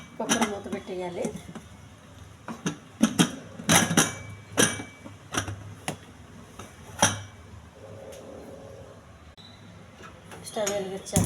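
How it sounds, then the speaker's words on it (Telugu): A pressure cooker lid is fitted and closed with a series of sharp metallic clicks and clanks, close by, interspersed with someone talking before and after. "కుక్కర్ మూత పెట్టేయాలి"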